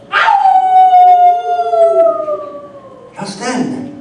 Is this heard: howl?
yes